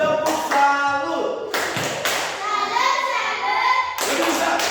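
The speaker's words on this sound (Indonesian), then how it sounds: "Tepuk tangan dulu untuk Ibu Fani" A sixth-grade classroom at an Indonesian elementary school breaks into short bursts of clapping and patterned hand claps for a teacher, mixed with children's voices and chatter.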